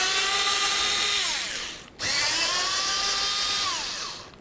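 Power drill spinning out the headlight lens assembly bolts on a 1997-2005 Lexus GS300, two close, loud sustained whirring runs with rising and falling pitch, separated by a brief pause.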